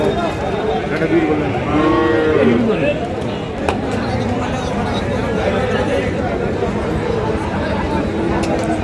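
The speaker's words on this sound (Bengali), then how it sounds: "গরু তো আছে" Bulls at a livestock market mooing loudly and nearby, with a drawn-out bellow in the middle, over constant crowd chatter and people talking.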